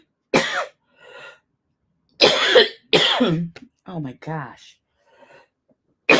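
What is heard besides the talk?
coughing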